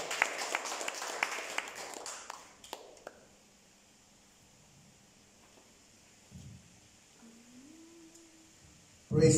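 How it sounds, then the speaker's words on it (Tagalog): A church congregation claps together in a dense burst of applause that fades out after about three seconds, leaving a quiet room with faint scattered sounds. "Palakpak po tayo sa Panginoon."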